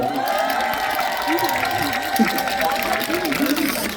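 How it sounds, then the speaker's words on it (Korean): Concert audience clapping for a Yeongnam gugak orchestra, a dense, loud wash of applause mixed with crowd noise and sustained instrumental tones beneath it, continuous throughout. "우리 영남 국악관연합단 여러분들 너무 연주 좋죠? 박수 한 번 주세요."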